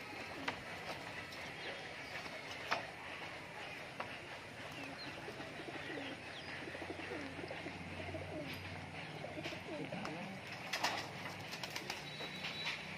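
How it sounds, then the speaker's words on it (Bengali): Many pigeons cooing from somewhere overhead in a loft, a steady low murmur of soft coos running throughout with a few sharper knocks and clatters. "পায়রা এখানে দেখো প্রচুর পায়রা রয়েছে উপরে"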